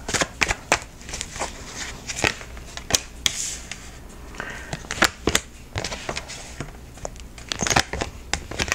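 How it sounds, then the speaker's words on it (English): A deck of tarot cards is shuffled in close, sharp riffles and crisp slaps, an irregular run of loud card snaps with faint background sound and no speech. "I'm going to pull 3 cards and see what intuitively I have for this week"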